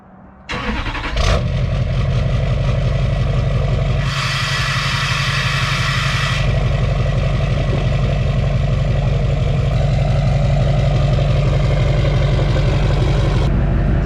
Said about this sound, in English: So we need to start the truck, and we'll get a sound clip from behind.